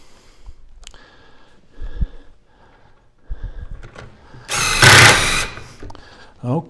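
Screws are driven into a kitchen island face frame to snug it against a post: a few soft knocks and brief whirs, then one loud, sustained power-driver burst lasting about a second, followed by a short final whir.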